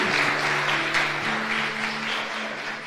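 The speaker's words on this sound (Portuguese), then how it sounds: "Uma salva de palmas para eles." Applause from a church congregation, a broad steady wash of clapping over a sustained tonal music or organ backdrop, continuing evenly throughout.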